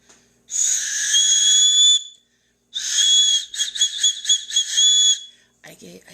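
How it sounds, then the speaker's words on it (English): Shrill blasts from a small toy whistle: one long sustained toot, then a burst of rapid short chirping pulses, loud and close. "See how there's like a little whistle?"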